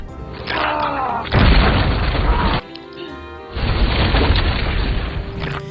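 A bomb detonates in a film scene, with two heavy, loud booming blasts with rumbling debris, separated by a short quieter gap, over a dramatic music bed.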